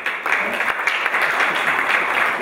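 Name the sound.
audience applause at press conference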